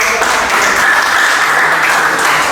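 An audience applauds after a classroom teaching presentation, with dense, steady clapping that fills the whole moment, loud and close, with no voices over it.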